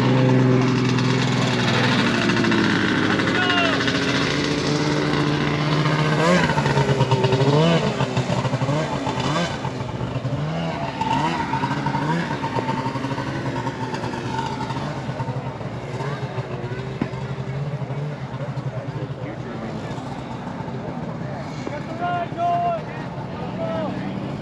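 A vintage Yamaha SRV snowmobile engine runs at an outdoor vintage snowmobile show, a continuous two-stroke drone with rising and falling revs, loudest early then steadier, with wind buffeting the microphone and people talking nearby.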